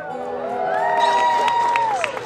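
A crowd cheers and applauds a band at the OC Music Awards, with loud whoops and voices rising over a swell of clapping. A music tone or feedback line sustains underneath.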